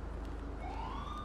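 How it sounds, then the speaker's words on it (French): A police car siren wails in the video game GTA 5, a faint, distant tone rising in pitch over a steady low engine rumble. "j'entends une sirène de police à mon avis"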